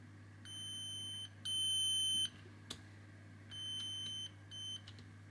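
An Abbott enteral feeding pump sounds its alarm, a series of sharp, high electronic beeps in uneven bursts, some longer and louder than others, over a low steady hum in a quiet room.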